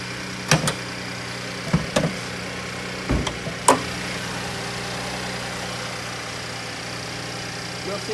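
A 2016 GMC Terrain's 3.6-litre direct-injection V6 engine idles steadily at a low, even rumble, broken by a few sharp clicks and knocks nearby.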